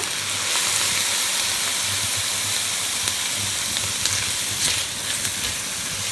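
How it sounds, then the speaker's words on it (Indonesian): Pork belly sizzles and hisses steadily in a hot pan after a splash of cooking wine, a continuous close frying sound with faint scrapes, for a Hong Kong–style braised pork belly with lotus root. "Oseng-oseng lagi bentar."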